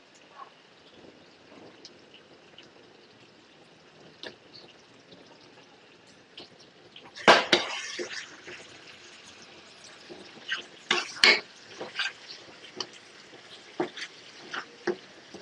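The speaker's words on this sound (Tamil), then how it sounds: "இப்போ பிராணம் போடுறோம்" Prawns drop into Chettinad masala in a hot pan, bringing a sudden loud sizzle and splatter, then intermittent stirring and crackling frying over a quiet background hiss, with no talking.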